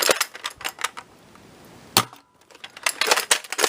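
Adventure Force Battle Blazer toy blaster fired through a chronograph: a run of sharp, close, rapid plastic snaps, a short quiet gap, then another quick burst of clacking shots, with no talk.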